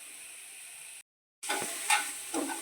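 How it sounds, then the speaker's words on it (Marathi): Garlic and green chilli frying in oil for a gram-leaf vegetable dish, a steady sizzle with stirring scrapes, cut by a short silence and then returning louder with bursts of crackle. "आता लसूण आणि मिरची चांगली तेलात भाजलेली आहे"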